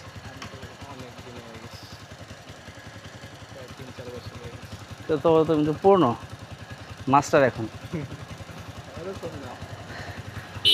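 Motorcycle engine idling steadily on a rural village dirt road, a low, even putter running throughout beneath close conversation between two people.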